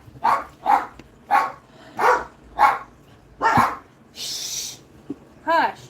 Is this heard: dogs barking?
yes